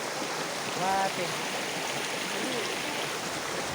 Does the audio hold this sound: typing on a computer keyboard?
no